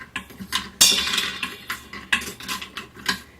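Dry whole spices, cinnamon, star anise and cloves, drop into the metal pot of an Instant Pot for mulled wine, giving a quick series of sharp clinks and rattles, close up.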